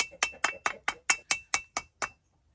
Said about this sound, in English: I think we'll just tap it with a hammer just to make sure it's seated all the way.